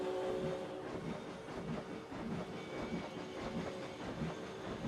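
A train running on its track in the theme park game Planet Coaster: a steady rolling rumble with a repeating clickety-clack rhythm, moderately loud and continuous, with no talking.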